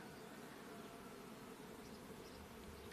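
Honeybees hum steadily at an apiary in the evening, a dense, even buzz of many insects that holds without a break from start to finish, nearby and moderately quiet.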